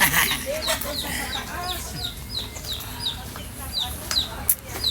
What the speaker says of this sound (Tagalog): Tingnan natin yung mga alaga niya, mga manok.